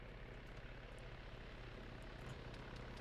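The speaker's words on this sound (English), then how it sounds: "Helicopter. There it is." A helicopter in Arma 3, a steady droning rotor and engine hum with a low pulsing throb, continuous and fairly faint throughout.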